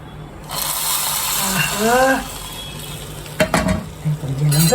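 Cumin tempered in hot ghee crackles and sizzles as it is poured over a dish, a burst of frying hiss with a short scraping stir, while a voice talks briefly.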